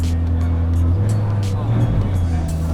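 A Lamborghini Urus SUV engine starts, revs up loudly in sport mode and settles into a deep, throaty idle close by, with a low rumble throughout.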